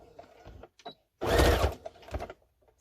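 A home sewing machine stitching fabric for a face mask, a short loud mechanical burst of running stitches in the middle framed by quieter clicks and handling, close and without talk.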